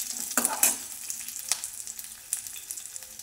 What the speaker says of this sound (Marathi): त्यामध्ये कढीपत्ता टाकून घेऊया आपण, ते 2 मिनटं परतून घ्यायचा